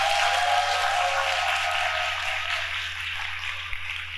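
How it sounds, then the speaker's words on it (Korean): Church congregation applauding the youth during a Sunday service, a steady wash of clapping that gradually fades over a few seconds. "너무너무 훌륭히 했습니다. 박수 한번 해주세요."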